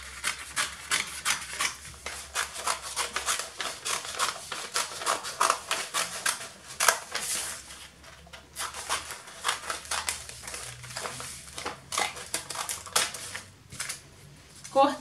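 Fabric is being cut for a child's jacket, with steady rapid rasping snips and rubbing strokes, close and fairly loud, running throughout with no pauses.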